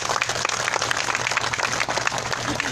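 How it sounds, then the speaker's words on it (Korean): Sustained applause from a crowd at a Wednesday street rally in Korea, steady dense clapping throughout, moderately loud and continuous with no speech over it. "다시 한번 연대에 대한 지지에 힘찬 박수를 보내주시기 바랍니다."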